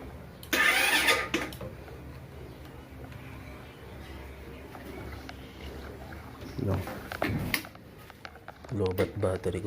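A Rusi Neptune 125 motorcycle fitted with a homemade Kalkal exhaust pipe starts up in a few loud bursts near the start and again near the end, with rough engine rumble between them.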